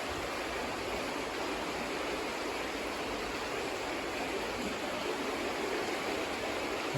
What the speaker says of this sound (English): Oh, cool river there.